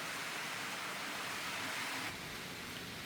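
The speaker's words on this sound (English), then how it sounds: "if you can hear the wind and the trees" Wind rushes through trees outdoors as a steady, broad, hissing roar that stays close and constant, with no voices over it.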